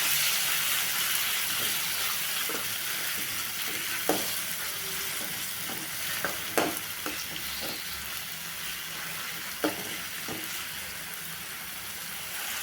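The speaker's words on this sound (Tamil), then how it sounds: "இப்போ வாங்க வதக்கிக்கலாம்" Onion and tomato with fennel seeds sautéing in a pan, a soft continuous sizzle with occasional scraping and clinks of a spatula stirring.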